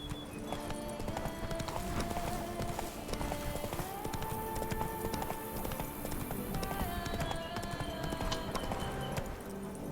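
A horse gallops in The Witcher 3, with quick, rhythmic hoof clip-clops running continuously and close, layered over steady tonal in-game music and ambience.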